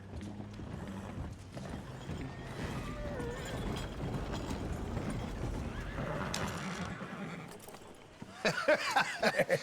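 A horse in Red Dead Redemption 2 whinnies and snorts over a steady clip-clop of hooves, with a burst of quick, louder hoofbeats near the end.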